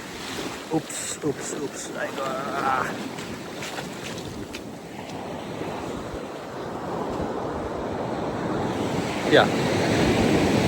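Sea waves wash ashore in steady broadband surf mixed with wind buffeting on the microphone, while a person speaks briefly and laughs near the start.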